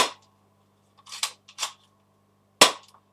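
Colt MK VI replica pistol fired in a quiet room, three or four sharp, snappy cracks spaced irregularly, with a steady low hum underneath.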